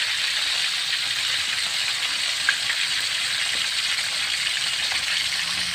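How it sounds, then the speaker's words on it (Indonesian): Fish frying in a pan over a medium gas flame gives a steady, dense sizzling hiss that holds evenly throughout, with no voices. "dan baru nyalain lagi kita goreng"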